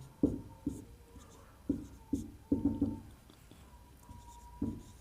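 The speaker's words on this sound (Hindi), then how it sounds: "सबसे पहले जो दिया है उसको लिख लेते हैं।" Pen or marker writing out a matrix equation on a board or page during a maths lesson, a series of short strokes and taps that come in quick bursts and pauses, fairly close, with no talk.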